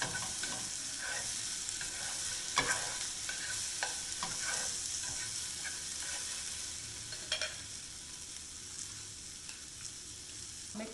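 Marinated tofu with its sauce sizzles steadily in a pan while being stirred, with scattered scrapes and taps of the utensil over a constant bright frying hiss, fairly quiet and unbroken by talk.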